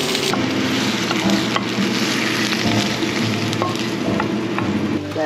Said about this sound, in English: I will put marinated pork into a fire.